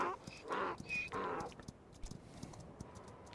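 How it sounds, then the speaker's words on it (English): Donkey hooves clip-clop in a Roblox Wild West game, a quick run of distinct, close taps after a few louder bursts at the start, steady and uneven in rhythm. "the volume is pretty loud on the donkey"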